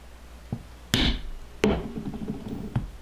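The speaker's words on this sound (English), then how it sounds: "Just to set that space in before you come in and hammer this all the way through." A stitching iron is hammered through leather during wallet making: three or four sharp, separate strikes with short ringing decays, close and fairly loud against a quiet background.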